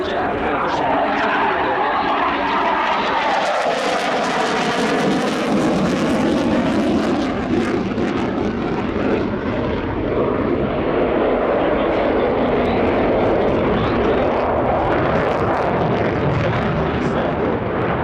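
A jet aircraft performing display maneuvers at the Royal International Air Tattoo 2024 airshow, its engine roar loud and continuous for the whole span, swelling and shifting in pitch as it passes through rolls.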